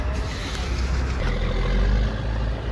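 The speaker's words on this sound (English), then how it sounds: "And that's how a truck's supposed to sound." A Kenworth W900 truck engine runs during a winter snow removal operation in Montreal, a steady low rumble with a broad roar and no clear changes, fairly close and with no talking.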